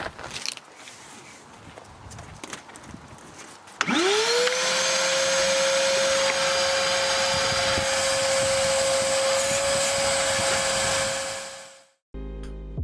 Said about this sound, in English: we're just vacuuming the interior, lots and lots of leaves